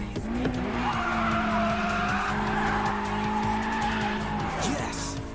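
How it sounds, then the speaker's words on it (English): Continuous tire squeal and skidding from a car in a full-throttle four-wheel drift during an Initial D race battle between an AE86 and an R32, with a loud sustained screech and engine noise beneath it. "He's pulling a four-wheel drift with full throttle and barely using any counter steering."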